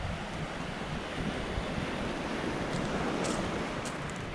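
Choppy ocean surf breaks on a beach at Manchioneal, Portland, Jamaica, a steady loud wash of waves mixed with gusty wind buffeting the microphone, and no one talks.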